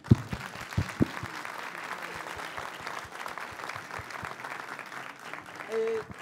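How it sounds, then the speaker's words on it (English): Audience applause at an education summit award ceremony, a steady patter of clapping from a seated crowd, moderately loud, with a few sharper claps near the start. "give them a big applause"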